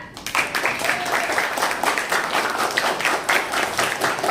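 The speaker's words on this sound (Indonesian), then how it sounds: "Beri tepuk tangan untuk kelas kalian." A class of students in a classroom applauds together, a dense patter of many hands clapping steadily and close for a few seconds, with a faint voice underneath.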